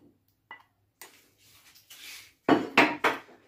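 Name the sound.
bringing out and placing a tajine pot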